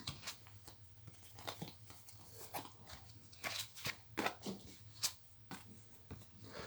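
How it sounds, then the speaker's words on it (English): Guidance cards being shuffled and pulled, soft papery riffles, flicks and crinkles in quick irregular bursts, close and quiet, with no voices. "I'm going to pull a few cards to see for some guidance for the day."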